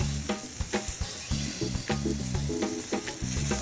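Garlic cooks in a hot pan, giving a crackling sizzle broken by short bursts of scraping and clatter as it is stirred, close and fairly loud, with no talk.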